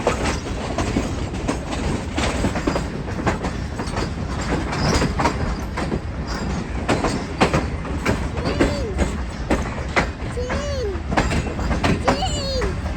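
Awam Express passenger train rolling on tracks, a loud steady rumble with rhythmic clickety-clack and occasional wheel squeal, heard from inside the coach with family voices talking over it.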